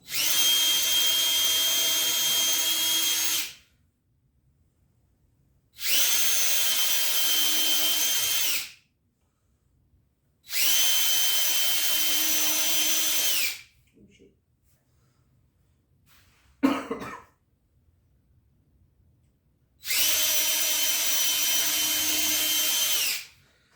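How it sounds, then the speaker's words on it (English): A power drill pre-drilling holes in wood whirs in four separate bursts of a few seconds each, separated by quiet pauses, with a short clatter in one gap. "pre-drill the holes"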